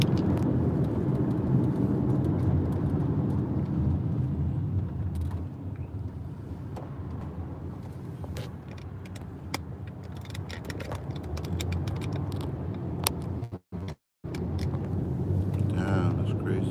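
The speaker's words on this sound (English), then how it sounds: "All this traffic's not helping." A car drives through road traffic with a steady interior engine and road rumble throughout, plus occasional creaks. People talk over it.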